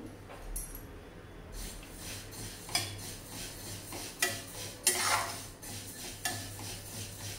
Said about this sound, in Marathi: खमंग असे खुसखुशीत आपण तीळ चांगले भाजून घेऊया